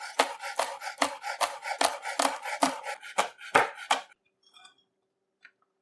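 A knife chops green mora on a board for fried rice in steady, crisp strokes, about a dozen close cuts in quick rhythm, followed by a few faint clinks and then quiet.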